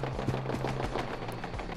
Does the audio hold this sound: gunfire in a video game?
yes